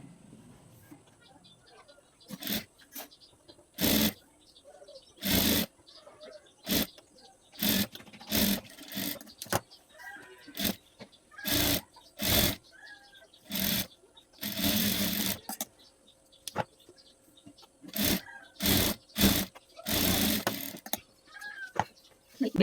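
A sewing machine stitches a back strip onto a blouse in repeated bursts of fast mechanical whirring, separated by short quiet pauses, close and fairly loud.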